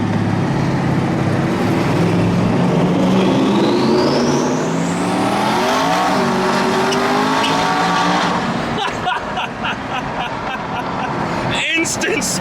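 A Corvette convertible does a burnout, its engine revving hard as the tires squeal and skid with rising pitch, loud and close, then settling into a rumble with brief sharp knocks near the end while people talk over it.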